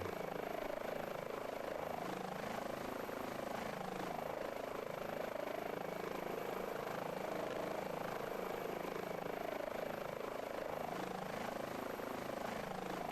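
An Airbus H145 helicopter in a VR flight game hums with a steady, even rotor and engine drone that stays constant throughout at a moderate level, with no voices.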